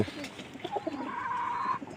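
Pigeons coo softly and steadily at close range, a low murmuring bird call that rises and holds for a moment before easing off.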